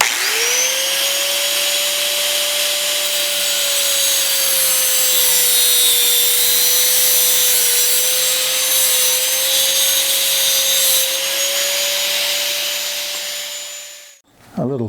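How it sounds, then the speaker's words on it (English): An angle grinder cuts an aluminum tube in half for bike pannier struts, giving a loud, continuous high-pitched whine over harsh grinding noise that holds steady for about fourteen seconds before the tool shuts off and winds down. "I'm going to use my grinder because real men don't use hacksaws"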